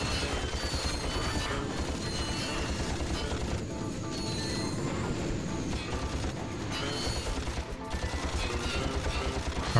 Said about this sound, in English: I'm wasting so much ammo just spraying.